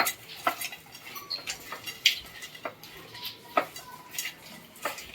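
A spoon scrapes and clinks against a pan in irregular strokes as a spice mixture with ginger-garlic paste is stirred, fairly quiet with short metallic taps.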